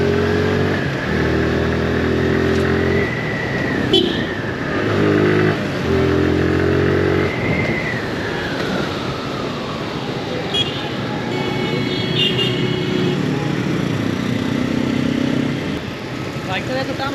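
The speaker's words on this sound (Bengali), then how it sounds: "বাইকটা এত টান হচ্ছে না" A motorcycle engine labouring and failing to pull, its drone rising and falling in uneven surges with clattering road noise, while voices talk over it.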